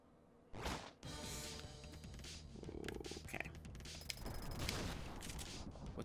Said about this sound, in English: I shot him. I also shotgunned him.